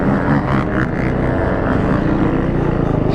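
Quad bike engines drone and rev continuously at a dirt compound as the machines race and drift, a loud, steady mechanical roar with slight rises in pitch and no speech.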